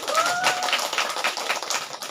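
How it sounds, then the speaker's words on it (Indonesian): Applause from an audience at a teachers' meeting, a brief burst of many hands clapping quickly and fairly close, dense and even for about two seconds. "Oke, tepuk tangan buat ibu."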